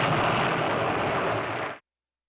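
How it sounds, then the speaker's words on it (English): Fireworks burst in one dense, roaring explosion that sustains loudly for nearly two seconds, then cuts off abruptly into silence. "There were fireworks, Larry, actual fireworks."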